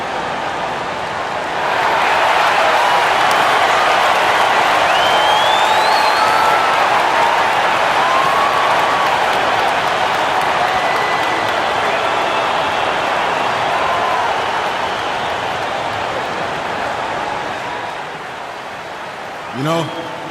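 A grateful crowd in the NBA 2K basketball game keeps up loud, steady applause and cheering that fills the whole stretch, then fades toward the end.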